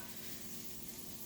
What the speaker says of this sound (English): So clearly you can hear from that the sizzle is on